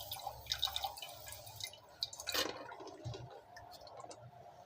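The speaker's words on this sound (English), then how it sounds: "Again wash the electrode thoroughly using the distilled water." A pH meter electrode is rinsed with distilled water: faint irregular drips and small splashes with light clicks, close and quiet, alone with no voices.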